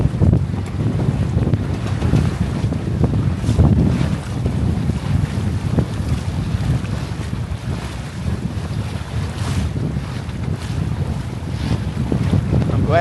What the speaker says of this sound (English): But I can hear the wind whistling